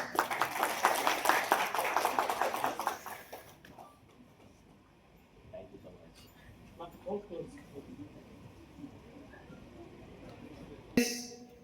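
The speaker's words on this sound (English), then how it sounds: "Please give a huge round of applause." Audience applause at an energy conservation and decarbonization event in Nagpur, a dense burst of clapping for the first few seconds, then fading into quieter room noise with faint voices and a brief clatter near the end.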